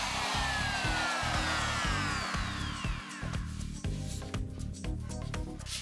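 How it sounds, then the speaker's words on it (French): Wood edge being rounded over with a quarter-round router bit, a steady loud high-pitched whine of the spinning cutter running throughout, with slight dips as the bit bites the workpiece. "je mets un arrondi avec une fraise quart de rond."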